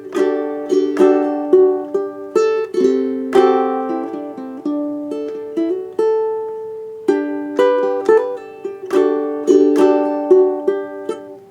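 Ukulele plays a section of a piece: a bright, close solo melody of plucked notes over ringing chords, with steady phrasing and a brief pause midway, no voice.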